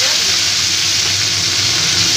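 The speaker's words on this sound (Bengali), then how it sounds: "এবার ওই তেলে আমি একটু কালো জিরে ফোড়ন দিয়ে দিলাম।" Black cumin (nigella) seeds tempering in hot oil give a steady, close, loud broadband sizzle and crackle, unbroken for about two seconds, with no voice over it.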